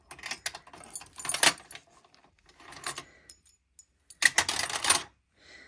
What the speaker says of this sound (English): And then when I opened it, it's full of these keys.